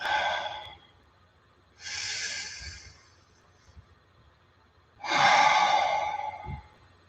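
Slow breathing during a guided meditation: three long, soft breaths with hushed, airy sighs separated by quiet pauses, close and unhurried, with no talking.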